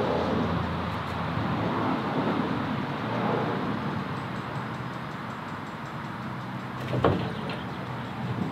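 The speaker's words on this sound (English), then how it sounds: "Sorry for the road noise." Steady broadband road traffic noise from a nearby road where a horse is being loaded into a trailer, a continuous wash of passing vehicles with one brief louder bump near the end, no talk.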